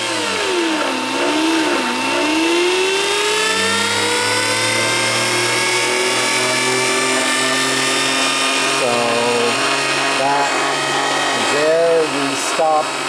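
A small electric motor fed by a flyback circuit whines loudly and steadily. Its tone sweeps and wavers as it runs, and near the end it winds down unevenly as the stator coil is disconnected.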